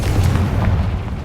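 A Confringo spell explosion in Hogwarts Legacy, a loud close boom with a deep rumbling body that fades over about a second.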